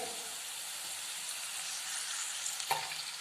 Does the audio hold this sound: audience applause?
no